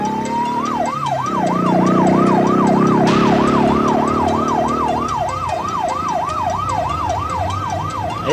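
A police siren wails in a fast, steady rising-and-falling cycle, loud and close, as a vehicle engine drones underneath in a busy street scene from a Filipino action film.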